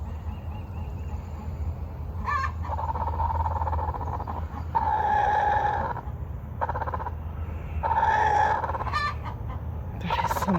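Hens cackling and clucking at a backyard coop after laying eggs, with repeated loud bursts of squawking rising over a steady background of farm birds, close and continuous.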